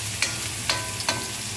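Shrimp paste (alamang) sautéing with onion in a pan: a steady close sizzle with three soft spatula scrapes or stirs, no voices.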